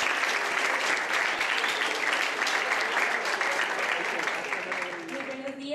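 A school economics event audience gives dense, continuous applause that stays loud and then eases off toward the end as a voice begins to emerge.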